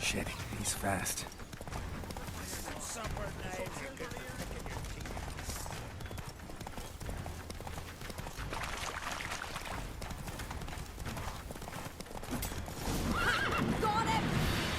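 A horse in The Witcher 3 galloping with steady rapid hoofbeats and neighing loudly under a busy game soundscape, with voices shouting over it.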